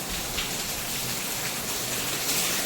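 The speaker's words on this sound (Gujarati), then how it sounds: "વરસાદ બહુ આવે છે" Heavy rain pours down in a dense, steady hiss, close and loud, with no break and no voices.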